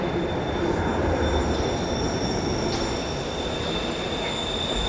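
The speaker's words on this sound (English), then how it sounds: "Get a train coming in." London Underground Bakerloo line train arriving at a platform near Harrow, a loud steady rumble of wheels on rails with sustained high squealing tones from the wheels throughout.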